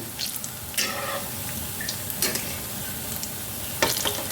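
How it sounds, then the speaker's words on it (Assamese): Milk and banana pitha frying in oil in a pan, a continuous sizzle with a few louder spatters and stirring scrapes, heard close up with no talk. "এতিয়া এইকেইটাও মই ভাজি ল'ম।"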